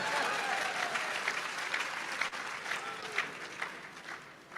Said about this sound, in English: A resounding round of applause for him.